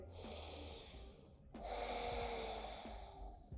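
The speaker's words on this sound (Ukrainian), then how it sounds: "заключний глибокий вдих" Deep, slow breaths during seated office yoga, a long inhale, a short pause, then a fuller audible breath, close and breathy with no talk.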